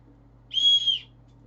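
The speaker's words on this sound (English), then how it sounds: "A whistle" A single short, shrill signaling whistle from a bug-out bag blasts for about half a second with a brief wobble, against a quiet background.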